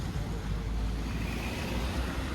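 A car approaching along a road, a steady low engine and tyre rumble that holds at moderate loudness throughout under continuous traffic noise, with no talk.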